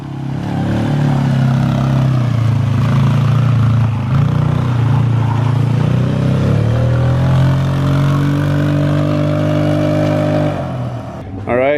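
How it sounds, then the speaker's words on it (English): A four-wheeler ATV, just jump-started after a dead battery, idles steadily in snowy sub-freezing weather, its low, loud engine drone constant throughout with slight rises in pitch. "Lincoln's battery died on his four-wheeler, so we just jumped it, and he's running it"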